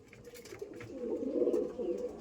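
A pigeon settling into brick dust gives a soft, low, throaty coo that swells gently and fades, faint and close, with no other sounds nearby.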